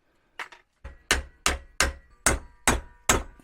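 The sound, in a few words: hammering on a VW T25 gearbox mount bush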